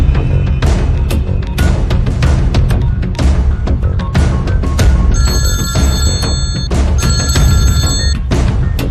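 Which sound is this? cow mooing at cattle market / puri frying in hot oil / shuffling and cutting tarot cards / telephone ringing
telephone ringing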